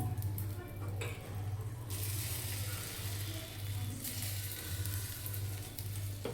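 Karandi omelette egg frying on a slow flame in a small ladle, a steady soft sizzle running throughout, close and quiet, under a low rhythmic hum.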